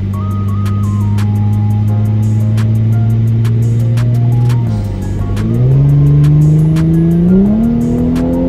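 An Audi accelerates hard with a loud, climbing engine note, then makes one quick gear shift as the revs dip and climb again, with ticking in the background.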